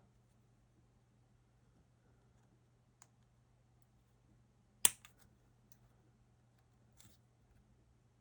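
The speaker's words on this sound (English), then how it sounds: "So I'm going to get my spruce cutters, start trimming them." Sprue cutters trimming plastic model parts for a Moomin house kit, a few isolated sharp snips spaced apart, one louder crisp cut in the middle, over a quiet low hum.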